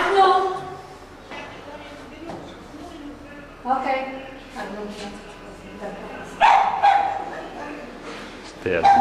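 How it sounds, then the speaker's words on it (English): A little old dog yips, whimpers and barks in short bursts indoors in a small apartment, close by, with people talking over and between the sounds. "They had a little dog."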